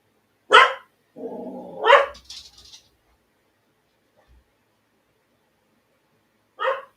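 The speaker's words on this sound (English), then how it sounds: "I'm just making sure the dog's barking." A dog barks a few times in a quiet room: a sharp bark, a lower growling bark soon after, then one more isolated bark several seconds later.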